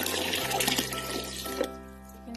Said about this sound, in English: So I need to add 12 cups of water to it.